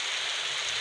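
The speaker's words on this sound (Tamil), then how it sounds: "மழை வேறு பெய்யுது" Rain falls in a video game as a continuous, even hiss of fine drops, soft and unbroken across the short stretch.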